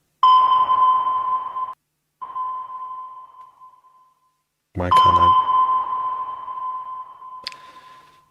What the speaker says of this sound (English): Sonar sound effect.